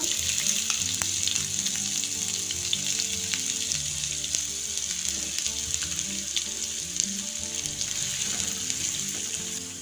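Chopped onion sizzles and crackles in hot oil, a steady close frying hiss with small pops throughout and no talking.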